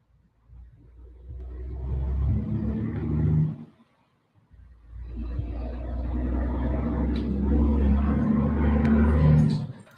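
A truck or emergency vehicle rumbles past outside a courtroom, with two low, rolling passes: a shorter one followed, after a brief quiet gap, by a longer, heavier one that swells before fading.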